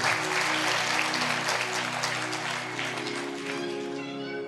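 A church congregation at a sermon claps loudly together, a dense, steady wall of applause lasting several seconds with a low sustained tone underneath.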